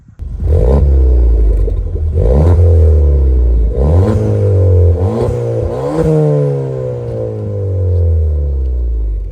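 A modified Ford Fiesta ST (MK7) hatchback exhaust revving repeatedly, loud and close, several rising throttle blips that fall back to a deep rumbling idle.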